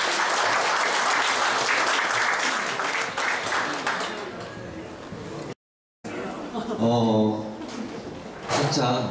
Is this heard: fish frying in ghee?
no